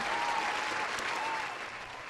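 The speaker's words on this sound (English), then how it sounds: "now round of applause" Dense audience applause, a short continuous burst of many hands clapping that fades slightly toward the end, with little talk over it.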